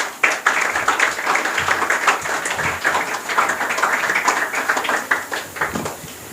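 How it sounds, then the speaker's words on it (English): An audience applauds a speaker at a confidence building program at an English academy, with steady, dense clapping from many hands that continues evenly throughout, moderately close and without talk. "Please clap for him."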